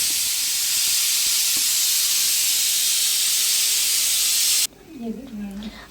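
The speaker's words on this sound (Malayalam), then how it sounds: "കുക്കർ വിസിലടിക്കുന്ന സൗണ്ട് കേൾക്കുന്നുണ്ട് കേട്ടോ" A loud, steady hiss of steam from a pressure cooker whistle runs for several seconds, then cuts off abruptly, leaving quieter room sound and a brief voice.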